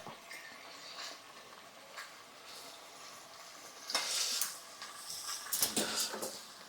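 Pieces of fish frying in a pan for a Telugu fish pulusu curry, giving a steady faint sizzle with crackling bursts that swell louder midway and near the end, with no talk.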